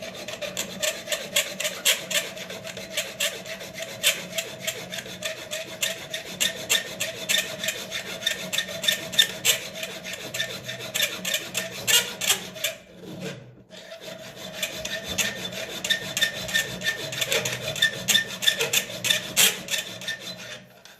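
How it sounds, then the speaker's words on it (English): A sharp hand file rasps steadily against a Lucas dynamo part from a 1954 Ferguson 20 TEF diesel tractor, close and loud in regular back-and-forth strokes, with a brief pause midway before filing resumes. "It's a very sharp file that."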